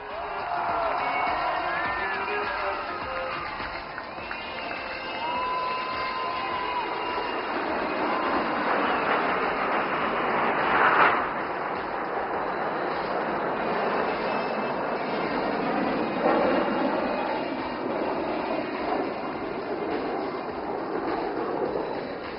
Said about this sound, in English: What we just saw was the aircraft of the Suryakiran team coming towards us